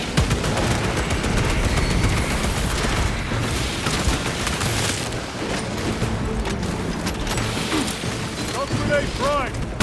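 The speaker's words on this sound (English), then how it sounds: "My mortar will silence you!" A Warhammer 40,000: Space Marine 2 battle rumbles with dense gunfire and heavy mortar booms, loud and continuous, with character voices shouting over the combat.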